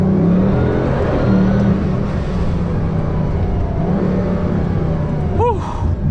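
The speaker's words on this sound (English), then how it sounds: "The turbo noises are just ridiculous in this thing." A Bugatti Veyron accelerates hard, the engine roaring loudly and steadily with whooshing turbo noise throughout and a brief chirping whistle toward the end, heard from inside the car.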